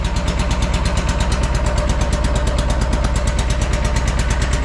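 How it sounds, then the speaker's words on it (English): Wright Stander X mower engine with a blown motor running on one cylinder, a loud, steady, rough rapid chugging with a pulsing, uneven beat, close and alone. "Running on one cylinder right now."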